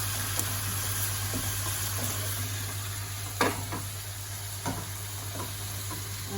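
Light soy sauce is stirred through a hot pan for pumpkin katsu curry, giving a soft continuous sizzle under a low steady hum, with a few faint knocks of the utensil against the pan.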